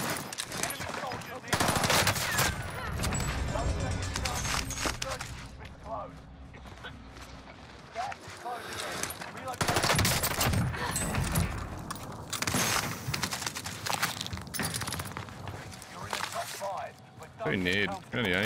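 Sustained rapid bursts of MP40 submachine gun fire fitted with a rapid fire barrel in Warzone on Rebirth Island, loud and nearly continuous, with a voice talking over the shooting.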